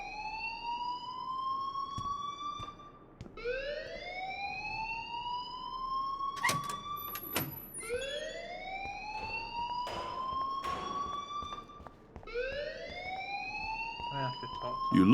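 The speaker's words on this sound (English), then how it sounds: "please turn off that alarm since that's your job" A repeating rising electronic alarm in the video game Life Is Strange, sweeping upward again and again for the whole stretch, loud and steady, with faint clicks and brief bursts of other game sounds.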